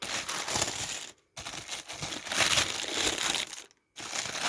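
Paper crinkles and rustles while Fluevog Derby Swirls x Jimi tapestry boots are unboxed, in close, fairly loud bursts of crumpling broken by two short silences.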